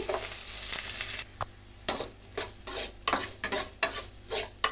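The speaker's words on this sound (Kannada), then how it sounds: "ಕಟ್ ಮಾಡಿಕೊಂಡಂತಹ ಈರುಳ್ಳಿನ ಸೇರಿಸೋಣ ಈರುಳ್ಳಿ ಚೆನ್ನಾಗಿ ಫ್ರೈ ಆಗಲಿ" Onions and mustard seeds frying in a pan for rice bath while a spoon stirs them, a strong sizzle followed by a rhythmic series of scraping, clattering stirs close by.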